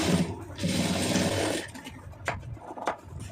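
A sewing machine runs fast and loud while stitching a quarter-inch folded blouse hem, its steady whirring hum lasting over a second before stopping, followed by a few sharp mechanical clicks and no talk.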